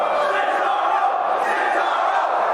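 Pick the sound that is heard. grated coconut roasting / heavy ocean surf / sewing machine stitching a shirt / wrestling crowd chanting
wrestling crowd chanting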